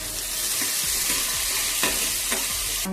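Spring onion greens sautéed with crushed garlic and toor dal in a hot pan, a loud continuous sizzle under several spatula scrapes and stirs, close and without voices.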